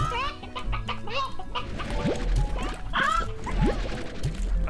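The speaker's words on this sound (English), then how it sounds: "Alright, chicken, come here." Chickens clucking in the video game Slime Rancher: a busy run of overlapping clucks and rising squawks from several birds, mixed with short game sound effects and thumps.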